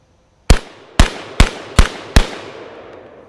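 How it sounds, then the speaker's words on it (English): Five sharp, loud Origin 12 shotgun blasts fire in a steady, fairly quick sequence, each shot followed by a short decaying echo, with no talking. "let's do a little bit of shooting with this guy and show you what the Origin 12 looks like"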